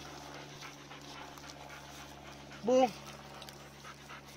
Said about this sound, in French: il y a mon chien qui va me manger